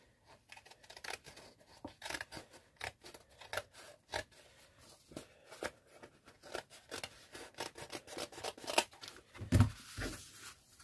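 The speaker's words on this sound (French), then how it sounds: "Et il vous reste à découper le surplus." Scissors trimming excess paper from a scrapbook album page, a close series of crisp snipping and rasping cuts in irregular bursts, with a louder cluster of snips near the end and no talking.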